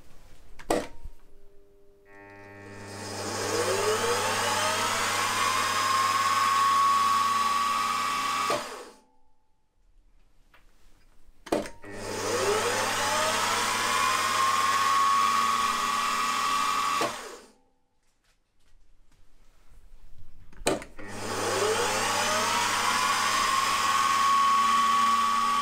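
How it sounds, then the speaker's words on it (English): A drilling machine whirs up three times in succession, centre drilling holes in metal for a model V-twin engine's valve gear case cover, each run a steady high-pitched spin lasting several seconds, separated by short pauses and clicks. "So what I'll do first of all is just centre drill."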